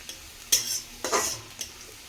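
Kundri stirred with a few dried red chillies and black cumin in a pan: three distinct scraping stirs with short sizzling bursts, close and fairly quiet, no talking.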